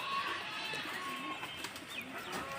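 Pigeons kept in a home pigeon farm coo softly and repeatedly, with a low murmuring flock sound throughout and faint background noise.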